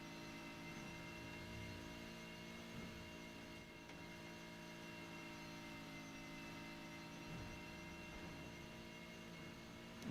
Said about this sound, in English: Legit sounds like an airplane about to take off.